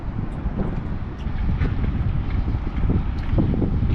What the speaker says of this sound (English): I want that wind to kind of blow me back here